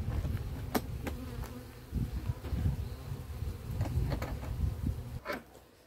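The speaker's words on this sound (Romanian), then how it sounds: "Văd că viespiul a început să vină." Wasps buzz loudly and continuously around a honeybee hive being treated for varroa in cold September weather, a close droning hum broken by scattered clicks and knocks.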